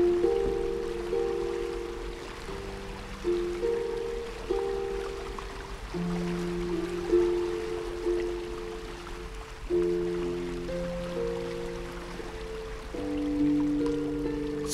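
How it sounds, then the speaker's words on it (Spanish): Rain falling steadily as a gentle relaxation soundscape, a continuous soft patter and trickle with calm sustained music tones layered over it throughout. "Siente las tibias gotas de lluvia tocar tus muslos"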